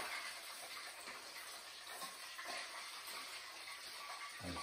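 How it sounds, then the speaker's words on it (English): Extra frying oil left from cooking a crispy whole fish pours off into a bowl, a soft, quiet, continuous liquid trickle and splash heard alone. "take the oil, the extra oil that I don't need, and dispose of it responsibly. I'm gonna pour it off here in this bowl,"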